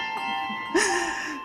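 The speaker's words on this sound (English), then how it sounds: "and we can ring the bell." A handbell rings out at a church bell concert with a bright, sustained chime that swells and lingers, following a quieter, fainter ring earlier.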